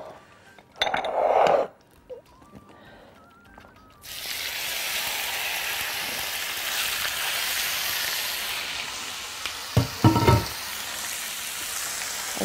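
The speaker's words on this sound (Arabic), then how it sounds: "هحط كده معلقه زيت، بعدين ابتدي احط صدور الفراخ واتبلها كويس" Chicken breasts hit hot oil in a pan and burst into a loud, steady sizzle that continues for several seconds, preceded by a few clinks and scrapes of utensils and followed by further metallic knocks.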